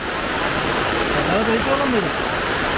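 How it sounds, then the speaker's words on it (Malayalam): A steady, dense rush of rainwater pouring down heavily during a heavy rain, with a faint voice briefly audible beneath the roar. "പെയ്ത്ത് വെള്ളം വീഴുന്നുണ്ട്"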